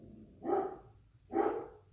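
A pet dog barks twice indoors, two distinct mid-pitched woofs about a second apart, moderately loud and close, with no talking.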